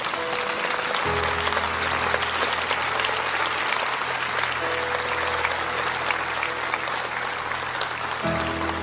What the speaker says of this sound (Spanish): No dejen de darles ese aplauso